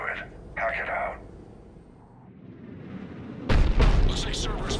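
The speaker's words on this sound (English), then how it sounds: "Looks like Cerberus got that cannon operational, Commander." A heavy cannon blast in the sci-fi shooter Mass Effect 3, a deep booming burst that erupts loud and sudden after a quieter stretch with a voice over a radio.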